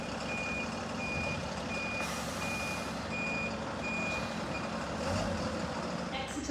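An Optare Solo bus with a six-cylinder engine sits at a bus station in Gillingham, Dorset, its reversing alarm beeping at a steady pace over a low engine rumble and busy ambient noise.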